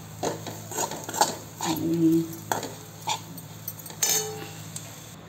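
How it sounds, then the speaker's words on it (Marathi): Raw peanuts roast in oil in a pan, giving a soft sizzle under scraping and clinking stirring sounds, with a few sharper knocks in between. "आता हे तेलामध्ये चांगले भाजून घेणार"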